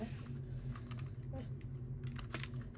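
A computer keyboard is typed on in a quick, close burst of light keystrokes, fairly quiet and lasting only a few seconds.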